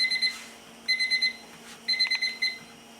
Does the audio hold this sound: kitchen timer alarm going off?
yes